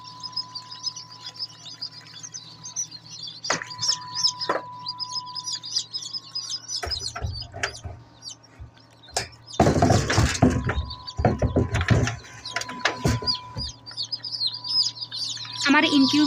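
Chicken chicks just out of an incubator give dense, high, continuous cheeping close by, joined by rustling, knocking and handling noises partway through.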